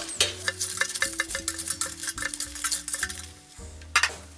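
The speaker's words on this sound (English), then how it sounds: "Just get the old tongs out. Do a little turnover." Metal tongs clatter and scrape against an air fryer basket as food is turned over, giving a quick run of close, bright clinks over a faint sizzle, with one sharper knock near the end.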